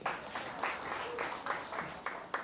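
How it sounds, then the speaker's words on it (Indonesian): A church congregation at a Sunday service claps for a pastor, faint and somewhat distant with loose, uneven bursts, and a voice talking over it. "Tepuk tangan buat Pastor Aldo."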